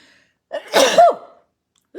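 One loud, close human sneeze with a quick inhale before it and a brief vocal trailing sound, surrounded by near silence.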